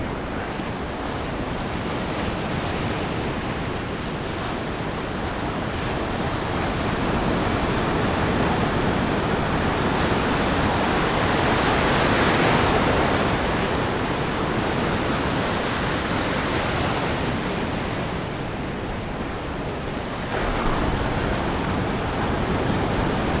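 Summer ocean surf with waves breaking into white water, a steady loud roar swelling and easing in sets, windy and continuous with no voices.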